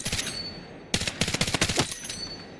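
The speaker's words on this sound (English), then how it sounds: "Burst firing, you can't miss a single bullet." Burst-fire gunshots in the video game Battlefield 6 come in two quick rapid volleys of sharp cracks, separated by a short pause, fairly loud and with no talk over them.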